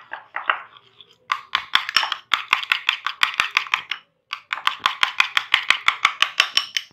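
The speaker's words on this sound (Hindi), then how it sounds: "अब हम इसको इतना अच्छे से मिक्स करेंगे कि ये बिल्कुल अंडे और स्ट्रॉबेरी का जो मिक्सचर है ये बिल्कुल सही सा मिक्स हो जाए।" An egg and strawberry mixture for strawberry bread French toast is beaten in a bowl: quick, rhythmic tapping strokes in close, loud bursts, with a brief pause midway.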